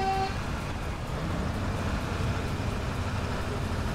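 A SnowRunner truck rumbles along a road in a low, steady drone, with a brief horn-like toot at the very start, all heard at moderate distance.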